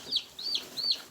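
Three high, bright peeps from baby chicks out on grass during chores, each a quick rising-and-falling chirp, close by and fairly clear against a quiet background.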